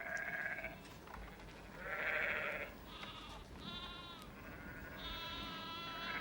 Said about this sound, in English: There are the sheep again